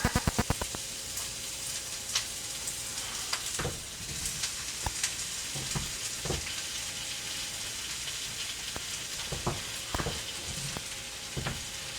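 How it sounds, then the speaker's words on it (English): Yukon Gold potatoes sizzle in a hot pan with onions already cooking, a steady crackling fry broken by sharp clatters and taps of the pan, close and fairly loud with no talking. "watch me add potatoes to a pan"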